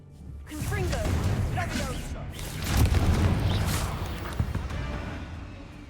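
A Confringo spell explosion in Hogwarts Legacy: a loud booming blast with whooshing rumble that swells and fades over several seconds amid game sounds.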